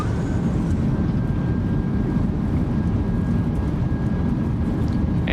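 A steady, loud, unbroken roar from an airliner's thrust reversers after landing in Microsoft Flight Simulator 2024 holds evenly throughout, with no voices.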